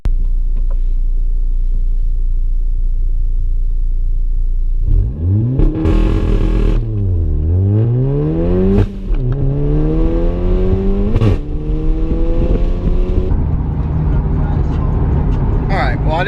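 A car engine revving hard during a 5,000 RPM launch-control drag racing start, roaring up through rising gear pulls with brief shift breaks, loud and close from inside the car.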